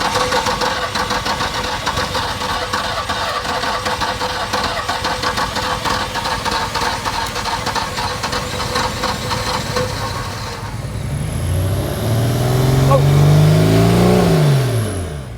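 An old BMW barn find, unused for 30 years, races close and loud with its throttle jammed open, a fast, ragged, misfiring roar that cuts out and then surges and falls in a few quick revs.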